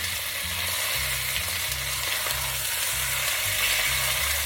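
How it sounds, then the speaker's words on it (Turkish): Lamb meat sears in a hot pan with a loud, continuous sizzle that holds steady and close throughout, alone without any talking. "Ve her iki yüzeyini de mühürleyeceğim. Bu sese bayılıyorum."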